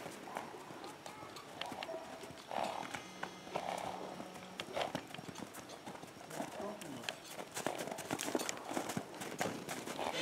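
A racehorse's hooves clip-clop on the ground in an irregular walking rhythm, close by, while someone talks over the steps throughout.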